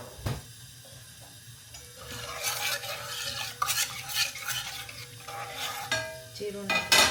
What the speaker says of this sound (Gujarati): જીરું નાખી થોડુંક એ ઉપર આવી જાય પછી ફ્રાય કરીએ